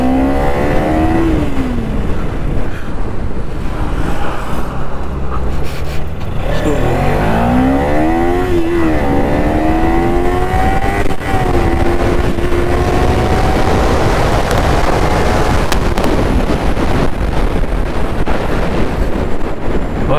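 Motorcycles in a full-throttle drag race, a KTM RC200 against a Kawasaki Ninja 300, engine notes rising and falling through repeated revving and upshifts, loud and continuous over heavy wind noise, with no talking.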